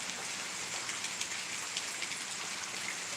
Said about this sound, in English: Looks to be that the rain's picking up again